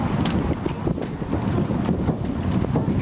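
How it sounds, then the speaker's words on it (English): Wind blows hard around a harbor, a steady, loud rumbling gust noise battering the microphone throughout, with no speech. "Now it's windy."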